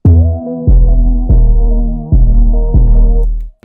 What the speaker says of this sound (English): low pass EQ the entire beat